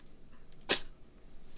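A single sharp sneeze bursts out once, brief and fairly close, in an otherwise quiet room during a compiler lecture, with low background hiss before and after.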